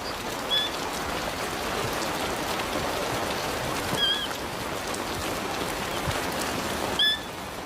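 Steady, cold rain pours down across an open savanna, a dense even hiss of drops hitting the ground throughout, with a few faint high bird chirps breaking through now and then.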